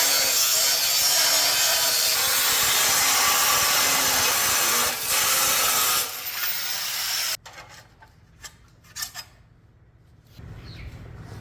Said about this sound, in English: if I cut this tin plate out